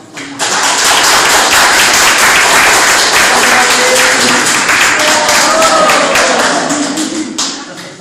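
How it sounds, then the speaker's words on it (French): Applause fills the room at a 50th wedding anniversary celebration, a dense, steady burst of many hands clapping close by for several seconds before it fades at the end. "alors on peut applaudir les 50 ans"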